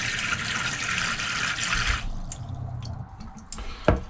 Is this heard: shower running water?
yes